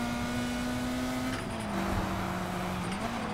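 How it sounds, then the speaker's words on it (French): Continuous engine drone of a racing car in the video game Need for Speed Heat, steady and fairly loud, with a shift in pitch partway through as it revs. "ce qui est derrière, là, j'entends un bruit de moteur"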